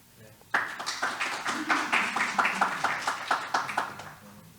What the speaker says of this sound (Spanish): le damos pase al doctor, por favor, palmas